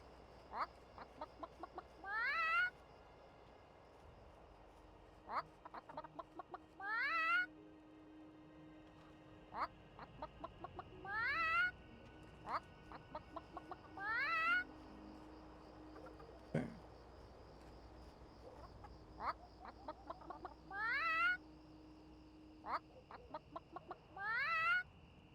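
Chickens in World of Warcraft cluck in short repeated bursts every few seconds over a constant high cricket chirr, with occasional low tones in a quiet outdoor game ambience.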